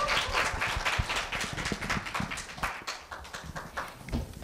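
Audience clapping at a middle school students' speaking contest, a dense burst of many hands filling the hall, steady throughout and gradually thinning toward the end.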